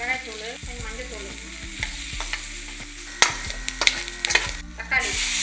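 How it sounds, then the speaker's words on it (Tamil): Onion with coriander, cumin and chili powder sizzles in hot oil in a pan for chana masala, a steady fry broken by scraping stirs and clatter, close by. "கொஞ்சம் எண்ணெய் ஊற்றிக்கலாம். வெங்காயம் கூட கொஞ்சம் கொத்தமல்லி தூள், ஜீரகத்தூள், மிளகாய் தூள்"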